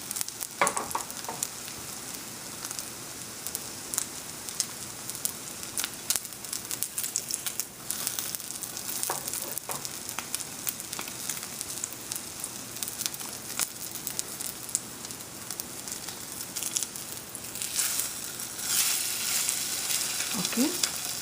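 Bread pav pieces frying in oil in a pan, giving a dense, continuous crackling sizzle with occasional shifting and scraping, close by, with no voices.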